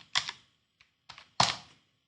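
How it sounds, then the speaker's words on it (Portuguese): A few separate key presses on a computer keyboard, three or four distinct clicks in a quiet room, near and fairly soft. "nós apertamos a letra A do nosso teclado"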